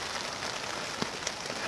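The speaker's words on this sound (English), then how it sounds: "It's been pouring rain since" Heavy rain pours steadily at a public campground at midnight during an overland 4x4 trip along the Continental Divide, making a dense, constant hiss with a few close drops and no voices.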